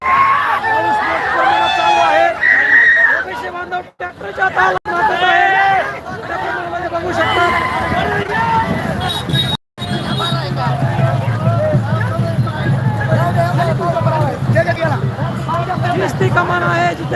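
OBC supporters at an outdoor Beed rally, cheering and celebrating a welcome even in rain: a loud crowd hubbub of overlapping shouts and chatter with a nearby voice talking over it, running continuously apart from a brief dropout.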